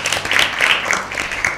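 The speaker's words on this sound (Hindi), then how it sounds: "टीम बी के लिए भरपूर तालियां।" Applause for a team answering correctly in a Lent Bible quiz, a brief dense burst of many hands clapping, fairly loud and close.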